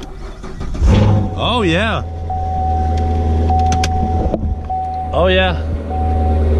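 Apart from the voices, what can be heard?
Mustang engine starting and running with aftermarket exhaust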